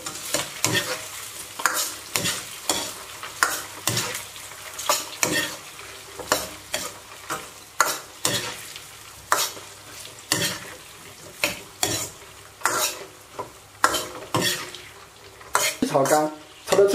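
Squid tentacles stir-fried with spicy seasoning over low heat, a steady sizzle broken by repeated scraping knocks of a spatula against the wok at a regular pace, close by with no talk.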